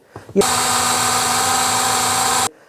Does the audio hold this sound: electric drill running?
yes